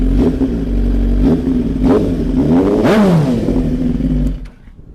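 An old motorcycle engine idles close by, then revs up sharply once and drops back, with a rattly, uneven tone before cutting off quieter.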